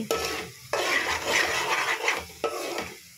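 A metal ladle mashes softened tomatoes in a cooking pot while making Telangana-style tomato rice. Several rough, scraping strokes come up close, with short pauses between them and no voices.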